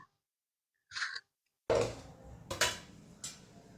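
A mutton biryani food container is opened with a couple of sharp plastic clicks and a scrape, followed by short rustling knocks as the lid comes free; close and quiet, with silent gaps between.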